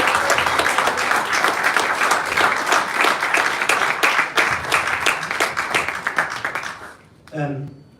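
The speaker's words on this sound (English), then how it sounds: "A round of applause for our manager, Paul Kelly." Football club supporters at a Hereford FC fans' forum applaud their manager, a dense run of close, steady clapping that fills the room for about seven seconds before stopping abruptly, followed by a brief voice.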